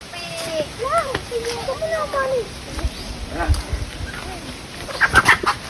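Chicken clucking and squawking nearby in short bursts as people try to catch it, mixed with voices talking and some thumps and rustling movement.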